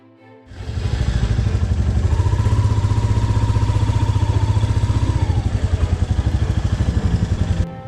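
A motorcycle engine fires up at the start of a ride in Kerala and settles into a loud, close, steady rhythmic thrum that holds strong until it cuts off at the end.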